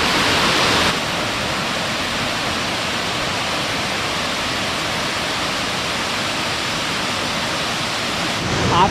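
A forest waterfall in the Himachal jungle roars as a dense, constant rush of falling water, loud and close throughout with no voices.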